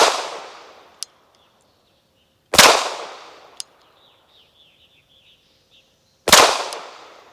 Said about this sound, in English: from this distance I'm going to be firing 3 shots to the body